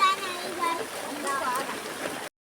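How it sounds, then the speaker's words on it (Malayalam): Heavy rain falls on a narrow lane while walking home under an umbrella, a steady wash of rushing water and splashing, close and fairly faint, with faint voices in it. "നല്ല മഴയാണ്"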